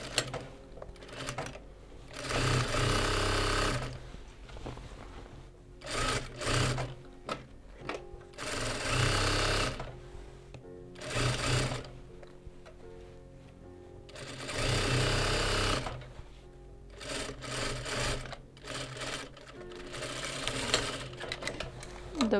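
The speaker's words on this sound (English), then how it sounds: "let's sewing them at 1 centimeter back stitch, yeah, exactly how you normally stitch a skirt." A sewing machine back-stitches the seams of a calico skirt at one centimetre, running in several loud, steady bursts separated by short pauses, with no talking.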